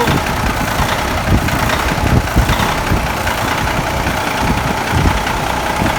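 A semi truck's diesel engine idles steadily and loudly up close just after starting on new batteries, a continuous low rumble with a slight knocking texture.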